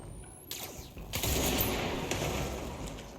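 Gunshots in the video game Control ring out as a few sharp cracks followed by a sustained rumbling volley, moderately loud with a faint voice underneath.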